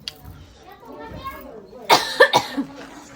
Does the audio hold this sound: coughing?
yes